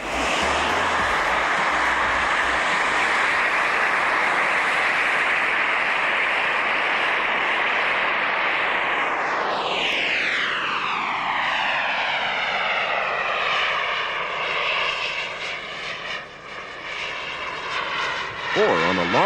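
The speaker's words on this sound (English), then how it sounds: "This seaplane makes an unusual subject for a turbojet installation." A radio-controlled model seaplane with a J450 turbojet at the 1996 RC Air Pageant: a loud, steady jet roar that swells, then drops sharply in pitch as it passes close overhead and recedes into a fading whine.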